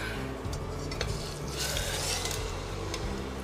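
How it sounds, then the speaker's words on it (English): A large, heavy brisket sears in a pan with a soft, steady sizzle, joined by the scrape and clink of utensils against the cookware, quiet and close with no talking. "so that is going in for a sear"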